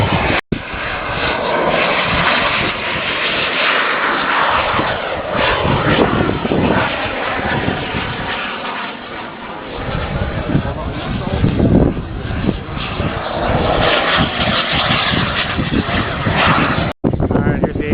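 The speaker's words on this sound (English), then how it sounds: "here's the A10 probably coming in for a landing" A 1/4 scale A-10 Warthog RC jet with twin turbine engines roars steadily and loudly throughout as it passes at a model aircraft flying event, its turbine whine swelling slightly as it comes in to land.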